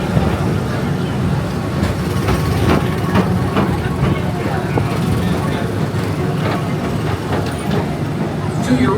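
Steady low rumble and rolling hum of a PeopleMover ride vehicle gliding along its track at Magic Kingdom, continuous and close throughout, with faint clicks over the drone.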